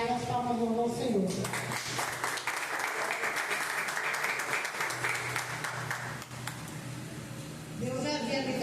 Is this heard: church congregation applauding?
yes